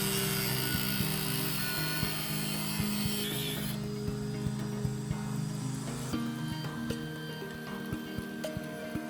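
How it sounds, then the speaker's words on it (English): An abrasive cutoff wheel on a die grinder slices through angled steel held in a Craftsman clamp, giving a steady, loud, continuous whine with a grinding edge that stays even across the whole cut, close up and with no talk. "I took my cutoff wheel to cut the gap."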